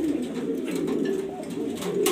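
Grizzle racing pigeons coo in a loft, giving steady, close, low throaty murmurs that run throughout with a faint chirp near the end and no talking.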